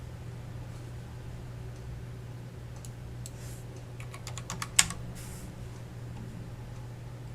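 Computer keyboard keys tap softly over a steady electrical hum, then a quick burst of sharper clicks finishes with a firmer Enter key press.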